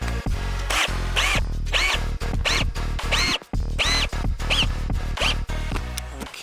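Power drill driving screws into the exterior panel of a vintage truck camper, repeated whirring bursts that rise in pitch, separated by short pauses, loud and close.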